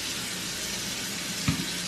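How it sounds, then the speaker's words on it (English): Hands washed under hot running tap water give a steady, close hiss of flowing water, with a brief splash or knock near the end. "So hold on for a minute while I wash my hands."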